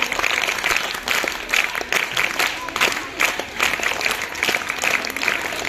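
An audience at a girls' high school certificate presentation claws out brisk, steady clapping, loud and close, with a faint murmur of voices underneath.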